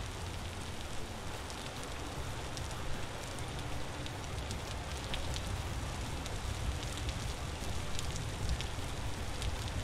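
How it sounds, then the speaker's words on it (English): Steady rain in the survival video game Vintage Story pours down continuously, a dense even hiss with scattered droplet patter, unbroken and fairly loud throughout with no voices. "Even if it never quits raining."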